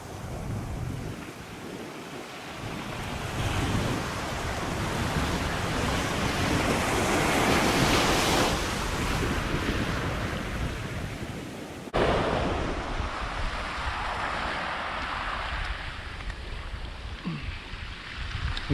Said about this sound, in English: Water coming in from the Pacific Ocean.